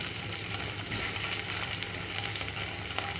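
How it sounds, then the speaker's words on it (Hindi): Taro root pieces fry in hot oil with a steady, dense crackling sizzle, close and continuous throughout, with no voices. "कम सेक पर मैं इस अरबी को यहाँ पर गोल्डन ब्राउन होने तक फ्राई करूँगी।"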